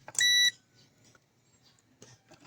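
One sharp, high electronic beep from a multimeter continuity test on an amplifier's shorted components, sounds briefly and loudly, followed by faint handling clicks in a quiet room.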